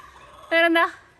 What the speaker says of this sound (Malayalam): കോഴി ഭയങ്കര ഒച്ചയുണ്ടാ.